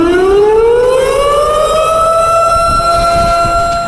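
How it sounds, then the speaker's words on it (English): A loud wailing air raid siren rises in pitch and then holds a long, steady tone, droning on alone and unbroken. "the air sirens playing in the background"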